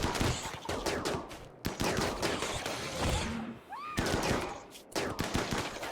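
Rapid bursts of gunfire from colonists shooting at mega spiders in the video game Rimworld, dense repeated shots filling the whole stretch with brief gaps, loud and close, with no talking.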